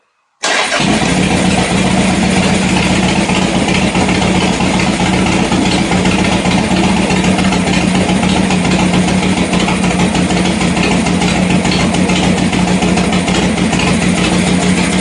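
A Harley-Davidson Sportster motorcycle engine after an idle adjustment, catching abruptly and then running loud and steady at a close, even idle for the whole stretch with no talking.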